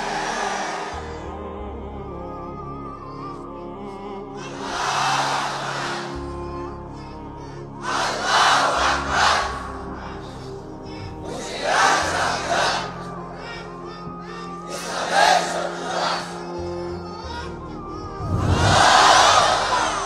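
A rally crowd roars slogans back in unison, about six loud surging bursts spaced a few seconds apart, each swelling and fading over a low murmur and background hum.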